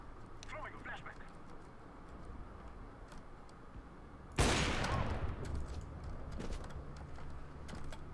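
Gunfire from a Counter-Strike match, a sharp loud burst of shots at the midpoint that rings into a dense rattle, preceded by quieter ticking and game noise with talk throughout.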